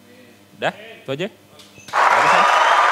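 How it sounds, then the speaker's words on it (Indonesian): A studio audience at an Indonesian talk show bursts into loud, sustained applause right after someone speaks a few brief words. "kita kasih tepuk tangan"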